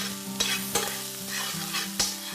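Cauliflower, kale, garlic and onions crisp in a pan for a lentil fried rice, sizzling steadily while a spatula scrapes and stirs several times, close and loud, with no voices.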